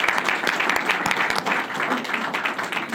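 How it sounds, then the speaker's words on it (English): An audience applauds a participant named Greg, with steady, dense clapping that stays continuous and fairly close for a few seconds. "Let's give Greg a round of applause on that."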